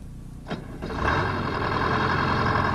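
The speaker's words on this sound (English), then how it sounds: "start your engine." A road roller's engine cranks briefly, then catches and starts, settling into a loud, steady running drone close by.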